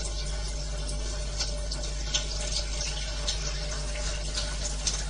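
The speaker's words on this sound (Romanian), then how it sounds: "apa alcalină încurge pe aici, iar apa acidă încurge pe acest furtun care vine tot din ionizator" Water pours steadily from the hoses of a water ionizer, one line carrying alkaline water and another acidic, a constant close splashing flow with faint drips and no voices.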